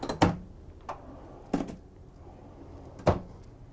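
A deep drawer in a Tiffin Allegro Bus 45OP motorhome is pushed shut, giving a few sharp knocks and thuds spaced irregularly, close and alone in a quiet interior.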